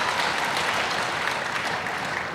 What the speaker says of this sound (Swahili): Sasa tumpigie tena makofi rais wetu wa Young Africans kwa kazi pia kubwa ambayo ameendelea kufanya.